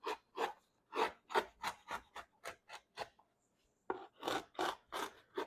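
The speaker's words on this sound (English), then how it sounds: "I'm going to take this nice paring chisel. I'm going to slice my way down toward that line." A paring chisel slices down the wooden rim of a guitar body, a series of crisp, close rasping strokes in a fairly steady rhythm, with a short pause midway before the strokes resume.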